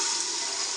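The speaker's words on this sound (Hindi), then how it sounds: "पानी इतना डालना है कि चने अच्छी तरह डिप हो जाएं" Water pours in a steady, loud, hissing stream into a pot of soaked black chickpeas, continuous for the whole moment with no voices.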